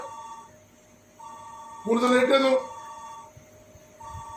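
A phone rings in a home with tonal repeating chimes, while a person speaks briefly over the middle of the ringing, which is fairly near and moderately loud.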